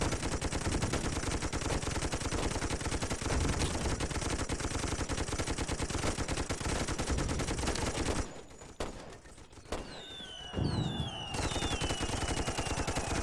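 Machine gun turret at level 1 in the Toy Soldiers video game, unlimited magazine, firing in a loud continuous rapid stream that breaks off briefly near the end, then resumes.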